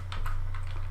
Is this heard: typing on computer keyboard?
yes